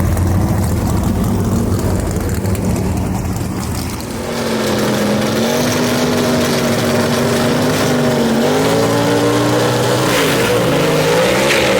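Two drag-racing cars at a dragstrip, a 1957 Pontiac and a 1941 Willys gasser, launching together with a loud, sustained engine roar that climbs steadily in pitch as they accelerate away.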